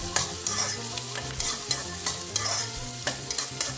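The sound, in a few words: onions frying and being stirred for mutton biryani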